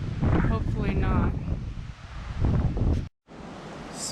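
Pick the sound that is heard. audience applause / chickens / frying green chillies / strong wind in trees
strong wind in trees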